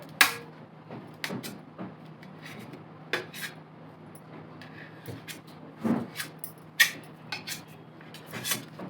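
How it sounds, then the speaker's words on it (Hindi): A knife trims the corners off bread slices, making a series of sharp taps and short scraping cuts against a board or plate, irregular and close, over a faint steady hum. "इसको हम ये पहले इसके सारे कोने काट देंगे"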